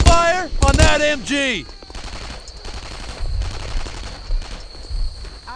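German MG machine gun fire crackles in a World War II firefight in Brothers in Arms: Earned in Blood, irregular rapid bursts at mid-distance following a short burst of loud shouting and whistling effects at the start.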